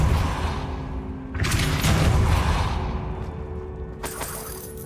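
A Depulso force spell cast in Hogwarts Legacy, a booming whoosh and blast that swells then fades, followed by a second sharp burst near the end, with no talk over it.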